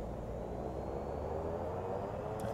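Pilatus PC-12 turboprop at full throttle for takeoff in the MSFS 2024 flight simulator, giving a steady, loud, droning engine roar that holds constant throughout, with no talking.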